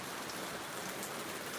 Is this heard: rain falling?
yes